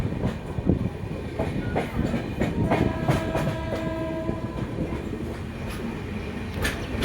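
Uttarbanga Express rolling through Cooch Behar station, a steady rumble and rattle of railcars with rhythmic clicks, carrying brief horn tones midway, loud and close throughout.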